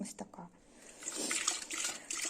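Cleaning solution swirled inside a kettle to loosen scale: a short phrase of speech gives way to soft, close sloshing of liquid that runs for a couple of seconds.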